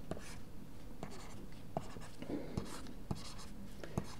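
Chalk or a marker sketches a diagram on a board during a lecture, with soft, irregular strokes and taps that come out faint and slightly distant against a quiet room.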